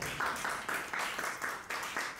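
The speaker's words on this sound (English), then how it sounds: "please, a round of applause" An audience at a climate action workshop claps steadily in a room, a soft, continuous patter of many hands that stays fairly even throughout.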